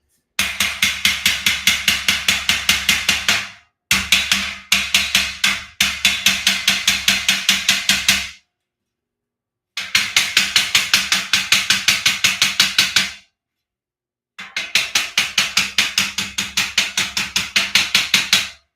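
Rapid bursts of hammer strikes on a garage shelving unit frame, fast regular blows in several runs separated by short pauses, loud and close.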